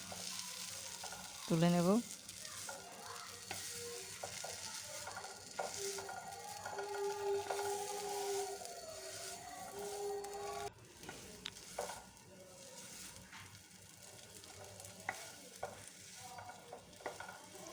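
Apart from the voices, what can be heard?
stirring raw banana peel paste in a pan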